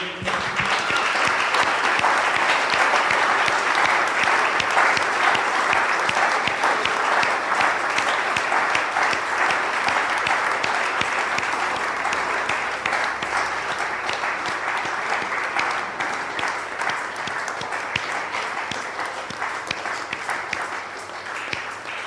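A church congregation at a French-language evangelical service applauds as an offering of praise to the Lord, sustained loud clapping from many hands that continues evenly for over twenty seconds and tapers slightly near the end.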